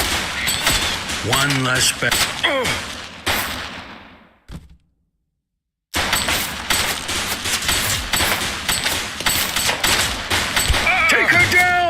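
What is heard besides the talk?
gunfire in the video game The Precinct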